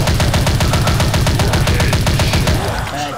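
Rapid automatic gunfire from the shooting game Dead Target, a loud, close, evenly spaced burst of shots that runs nearly three seconds before cutting off.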